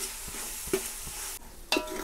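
Sliced onion fries in a pan for a large batch of Maharashtrian potato curry, a soft close sizzle with a few stirring scrapes and clinks.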